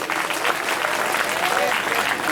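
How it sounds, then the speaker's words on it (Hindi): Audience clapping for three maharaj ji during a Shrimad Bhagwat Katha gathering, a dense, steady wash of hands from a sizeable crowd with a voice speaking faintly underneath. "तीनों महाराज जी के लिए जोरदार"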